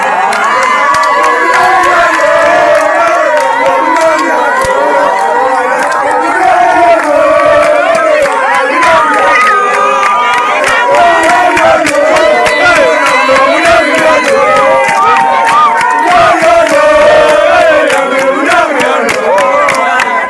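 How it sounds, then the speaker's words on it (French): A jubilant crowd cheers and shouts loudly and continuously, carrying a prophet aloft in a tipoye after an election victory, with dense overlapping voices close by throughout. "le prophète Béni Nguambina est porté en tipoï par une foule en liesse"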